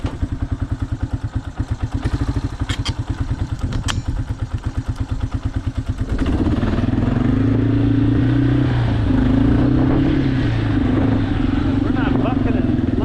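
A cheap ATV's small engine idles with a rapid, even putter, then revs up into a louder, rising and falling drone as it runs through gear changes, with a voice talking over it.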